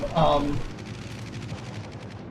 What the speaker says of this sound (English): Oh, now they're shooting.